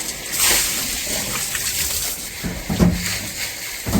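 About 800 litres of water pours into a tank at a jivamrut plant, making a steady, close rushing and splashing wash that carries on without a break.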